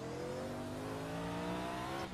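A Mercedes prototype race car engine in Project Cars roars steadily at high revs, a raspy, rounded drone that climbs slightly in pitch, with no voices.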